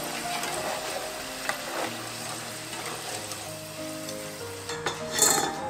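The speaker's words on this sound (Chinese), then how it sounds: "最后我们再来炸薯条" Potato french fries deep-frying in oil, a continuous bubbling sizzle with occasional stirring clatters and a brief louder burst near the end, no speech.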